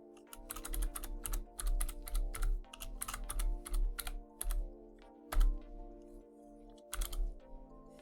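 Quick bursts of keys tapped on a computer keyboard while entering a Wi-Fi password during a home Bitcoin miner setup, close and crisp, with short pauses between runs of keystrokes.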